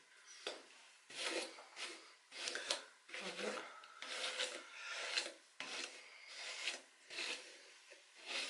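A hairbrush strokes through hair in close, rhythmic raspy swipes, about a dozen brushing passes repeating steadily, quiet and intimate.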